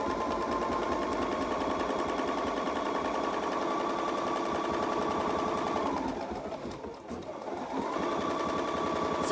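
An embroidery sewing machine stitches steadily with a loud, close, rapid mechanical hum, briefly slowing and dipping near the end before picking back up to full speed.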